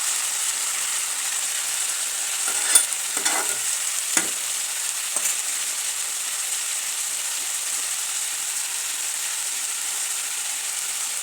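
Broad bean curry with onions and tomatoes being stirred in a hot pan, a steady close sizzle running throughout with a few sharper scrapes and clacks of the spoon against the pan.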